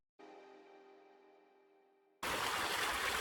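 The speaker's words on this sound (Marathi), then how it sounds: "नदीचा मंद आवाज" River water rushes in a steady, full wash that starts abruptly after a quieter stretch of low, even hum and then holds close and continuous.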